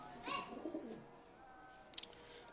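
Pigeons kept by a breeder coo softly near the start, and a few fainter, scattered bird sounds follow later in an otherwise quiet outdoor setting.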